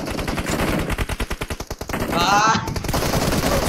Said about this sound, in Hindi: कवर फायर दो, कवर फायर दो, कवर फायर दो